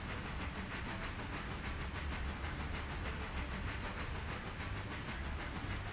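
Diesel locomotive in the railroad game Railroader pulling a train with the throttle opened fully, giving a steady, continuous low engine drone with hissy rumble, heard alone at a fairly faint level throughout.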